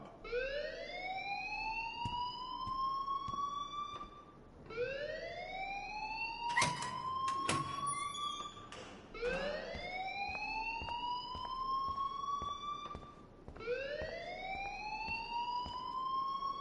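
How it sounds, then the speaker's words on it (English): A looping electronic alarm in a PS4 video game wails in repeated rising sweeps, four cycles with short gaps between them, loud and steady, with a brief burst of broadband noise midway and no talking. "please turn off that alarm since that's your job"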